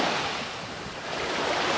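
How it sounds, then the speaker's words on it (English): Ocean surf washing onto a beach as a steady, full roar with gentle swells, mixed with some wind noise and no voices. "just listen to the waves"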